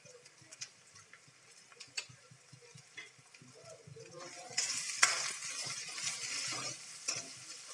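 Finely chopped green chillies go into a hot pan while frying for a Sindhi dal pakwan breakfast: soft spatula ticks and scrapes at first, then a louder, steady sizzle swells up and keeps crackling to the end, with no talking.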